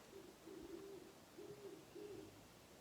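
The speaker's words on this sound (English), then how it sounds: "I hear an owl." An owl hooting outdoors late at night, soft low hoots repeated three or four times at an even pace, distant and faint over a hiss of background noise.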